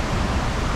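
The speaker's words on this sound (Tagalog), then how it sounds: "Sigurado malakas yung malakas yung current ng tubig" A muddy river swollen by upstream rain rushes past in a strong current, producing a steady, dense broadband roar of flowing water close by with no voices.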